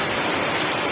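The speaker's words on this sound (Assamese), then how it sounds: "এতিয়া পুৰা বৰষুণত গৈছোঁ" Heavy rain pours steadily outdoors by a home with a netted fish pond, a dense, even hiss of water close by that fills the whole moment without a break.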